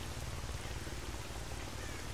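Rain in the video game Call of Chernobyl, a steady dense patter of raindrops hissing on surfaces, faint and continuous with no other sounds.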